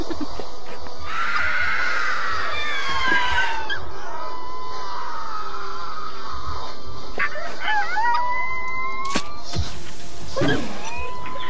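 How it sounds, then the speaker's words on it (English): A dragon creature in the video game Day of Dragons gives a long, wavering, whinny-like howl, followed by shorter rising calls and a sharp cry near the end, loud and close over a steady game background. "Did Night Eyes just howl?"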